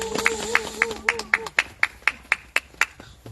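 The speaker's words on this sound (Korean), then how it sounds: "큰 박수로 맞이해 주시기 바랍니다." Applause welcomes a speaker at an outdoor peace rally in cold weather. A small crowd claps rhythmically and in unison, each clap sharp and evenly spaced, close by, with a voice talking over the start.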